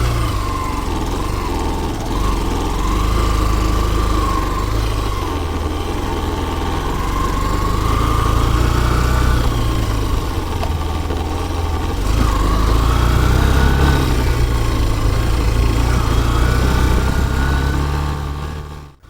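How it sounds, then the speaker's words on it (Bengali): A Yamaha Saluto 125cc motorcycle engine runs steadily while the bike is ridden, a loud, continuous low drone whose pitch rises and falls slightly with the throttle, close by with no talk. "তো আমরা বাইকটা স্টার্ট করে নিয়েছি এখন রাইড করে দেখবো"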